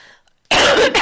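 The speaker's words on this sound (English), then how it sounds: "crikey, we're all coughing tonight" A loud, close burst of coughing after a moment of near silence, harsh and raspy, lasting about half a second.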